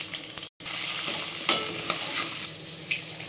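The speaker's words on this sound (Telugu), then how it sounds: "ఇటు వెజిటబుల్స్ వేయించుకుందాం. ముందుగా క్యారెట్," Carrots frying in ghee in a pan for a quick veg biryani: a close, steady sizzle with frequent stirring scrapes, briefly cut to silence near the start, and no voices.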